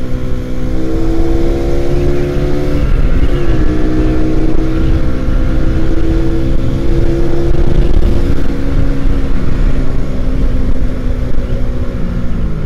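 Suzuki Satria FU 2009 motorcycle ridden at speed, its engine holding a loud, steady buzzing drone with rising and falling pitch as it revs and shifts, mixed with wind rush throughout.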